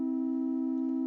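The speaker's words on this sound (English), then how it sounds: "FM on a sine wave" Steady electronic sine tone with FM synthesis from a VCV Rack modular patch, holding one sustained pitch with faint harmonics throughout, loud and alone with no talking.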